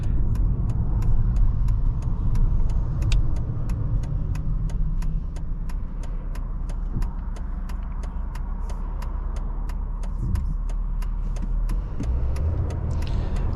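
A 2011 Mercedes S550 with a 5.5 liter V8 cruising on the road, a smooth continuous engine and road drone heard from inside the cabin, with a steady ticking and no speech.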